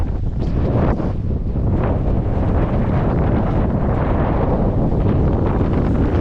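Strong wind blowing across the open Great Sand Dunes in Colorado, a loud, steady roar buffeting the microphone throughout with no pauses.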